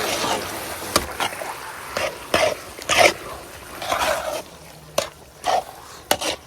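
Thick Bannu milk halwa is stirred in a pan in commercial style, producing repeated scraping and sloshing strokes at an uneven pace with short sharp clanks between them and quieter pauses.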